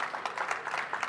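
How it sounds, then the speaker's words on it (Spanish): Audience applause at a Gastrónoma'20 gastronomy talk by chef Toni Boix on rice cooking, steady crowd clapping filling the short moment without speech. "Os voy a pedir un aplauso para Tony Boyce y alguien se ha adelantado"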